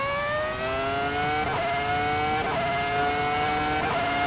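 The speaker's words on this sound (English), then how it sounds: "And this is the sound of Michael Schumacher's 2004 championship-winning Ferrari." A high-pitched 2004 Ferrari Formula One engine in the Assetto Corsa racing game whines through rising gear changes, screaming up and shifting roughly every second, close and loud.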